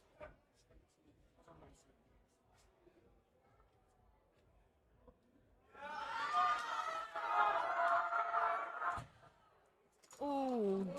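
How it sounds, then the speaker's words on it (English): A crowd at a powerlifting competition erupts into loud cheering and shouting during a record attempt, sustained for several seconds before breaking off, then surging again, following quieter chatter. "We have some energy from the crowd"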